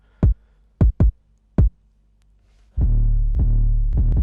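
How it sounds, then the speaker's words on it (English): A compressed kick drum in a trap beat thumps four times with an irregular rhythm, then a sustained booming 808 bass enters with further kick hits layered on top, deep and punchy. "Here's the kick drum with a bit of compression."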